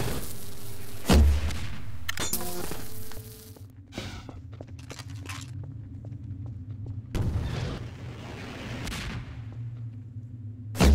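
Gunfire from rebels in a shooter game, with loud sharp bursts and booms over a steady low rumble, broken by quieter stretches holding scattered clicks and footsteps.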